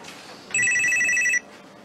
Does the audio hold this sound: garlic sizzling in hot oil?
no